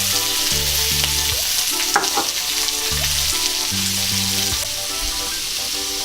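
Ginger and onion fry in a pan for salmon adobo, a strong continuous sizzle with a few stirring clatters, heard under background music.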